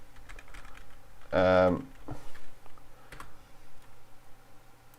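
Fingers tap on a computer keyboard during a Python coding lesson, a scattering of light quick clicks at close range, with a short spoken exclamation breaking in partway through.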